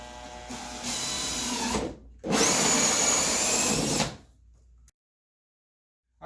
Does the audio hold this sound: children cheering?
no